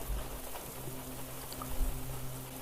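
A steady patter of rain falls on a windy night, a soft, even hiss with faint low hum beneath it, quiet and continuous with no voices.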